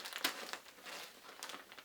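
Soft plastic crinkling in a few short bursts, close by, with a sharper rustle near the start and quieter handling between.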